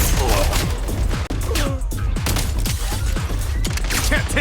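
Gunfire in the video game Everwinter Without Mercy: dense, continuous bursts of shots packed with sharp sweeping synthetic effects, loud and close, with no pauses over several seconds.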